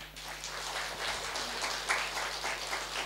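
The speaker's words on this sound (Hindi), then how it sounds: "इसी के साथ हम एक बार ताली बजा देंगे" Faint, diffuse clapping from an audience at a spiritual lecture on management lessons, a soft steady patter of hands heard at a distance with low hum beneath.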